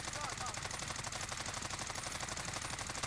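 Rapid automatic gunfire from a first-person shooter video game, fired while aiming down sights, a dense continuous burst that runs the whole time at steady loudness.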